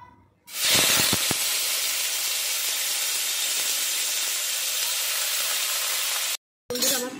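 Onion and garlic sizzle hard in hot oil in a wok for Bengali amaranth greens, a loud, steady frying hiss that starts abruptly and holds without a break until a short cut near the end.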